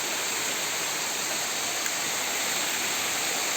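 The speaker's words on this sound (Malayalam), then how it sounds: "കണ്ടോ നമ്മൾ വെള്ളച്ചാട്ടം കണ്ടോ?" A waterfall roars in a steady, dense rush of falling water, close by and unbroken, with no voices over it.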